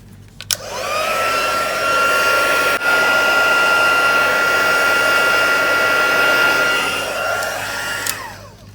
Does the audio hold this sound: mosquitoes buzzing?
no